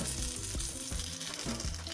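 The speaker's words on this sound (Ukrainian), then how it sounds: "Перевертаємо і смажимо далі" Loud, continuous sizzling and crackling of cheese-filled water-and-flour dough frying in hot oil in a pan, close up, with faint low rhythmic knocks underneath.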